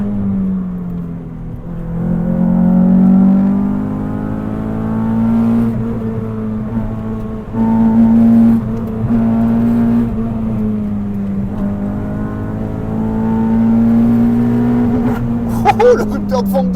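A car engine revs hard and holds near its rev limiter in a long sustained wail with slight pitch swings, loud and close, on cold tyres still struggling for grip.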